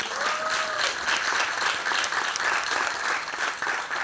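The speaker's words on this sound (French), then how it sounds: "je vous propose, c'est d'applaudir encore plus fort ceux qui sont en orange et en gris également" Sustained applause from a seminar audience, dense and steady clapping throughout, fairly close and loud with no talking over it.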